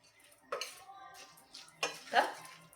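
A spoon clinks and scrapes against a metal pot as washed lentils are mixed with vegetables for mixed-veg masala khichdi, a few distinct knocks and stirs over a quiet kitchen background.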